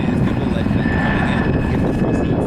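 An RCAF CH-146 Griffon military helicopter at an airshow drones steadily close by, its low, throbbing rotor noise continuous and loud for the whole moment.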